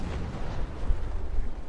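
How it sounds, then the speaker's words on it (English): Naval 9-pound guns in a video game boom continuously, a dense rumbling barrage of low, overlapping blasts at steady loudness with no pause. "God, those 9-pound Navy guns reload so fast."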